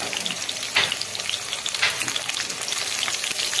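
Potato pieces frying in hot oil for a Kolkata-style home chicken biryani, a dense continuous sizzle with periodic scraping bursts as they are stirred, close and fairly loud, no talking.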